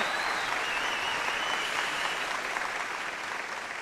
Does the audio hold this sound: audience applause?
yes